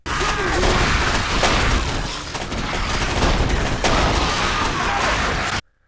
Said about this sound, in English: Pick up the game's shotgun, which is alright, I guess.